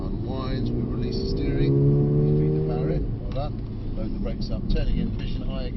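A 2024 Mercedes-AMG A35 revs up on a track, its engine note rising in a clear whine over a few seconds before easing off, while an instructor talks throughout.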